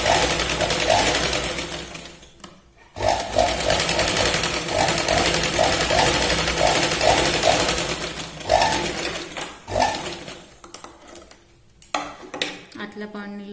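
Sewing machine stitching a lined strip onto the main fabric of a boat-neck blouse, running in repeated bursts of rapid needle clatter with short pauses and handling noises between runs.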